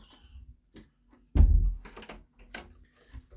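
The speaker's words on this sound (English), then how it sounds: "Just close the door." A door in a toy collection room swings shut with one solid close thud mid-clip, preceded and followed by faint rustling and small knocks, fairly near with no talk over it.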